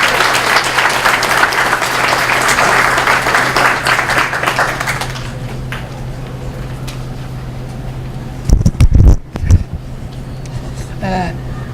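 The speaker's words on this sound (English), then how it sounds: "If you give him a round of applause, please." Audience applause for a high school student speaker at a volunteer recognition event, a loud, full round of clapping that fades out after about five seconds, followed by quieter room noise and a few thumps as the speaker takes the microphone.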